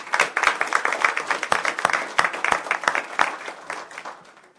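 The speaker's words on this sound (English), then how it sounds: "I think they deserve an applause" Audience applause fills a city council meeting in Lancaster, a steady burst of many hands clapping at moderate loudness that thins out toward the end, with no talk over it.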